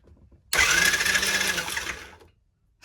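TaoTao 110cc quad's starter cranks for about a second and a half after the ignition button is pressed, a steady buzzing whir close up that cuts off abruptly, with no voices.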